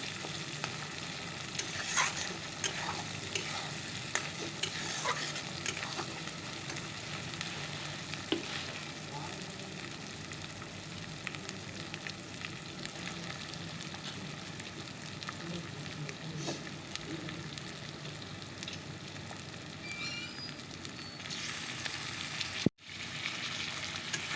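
Chicken pieces frying in a pan with a whole head of garlic, a faint continuous sizzle with soft stirring scrapes and occasional murmured voices, ending in a brief sharp click.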